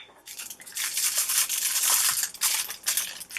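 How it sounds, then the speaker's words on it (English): Plastic cover being pulled off a container of mineral beads, giving dense crinkling and rustling crackles that swell and pause over a few seconds, close and fairly loud, with no voices. "I'm going to open this up and dump it into the previous container"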